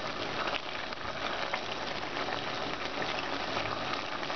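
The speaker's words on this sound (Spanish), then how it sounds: "Vamos a dejar que cocine un poco la zanahoria, que la patata esté al dente" A pot of Peruvian tripe stew with carrots and potatoes simmers on the stove, giving a soft, continuous bubbling hiss at low volume with no voices.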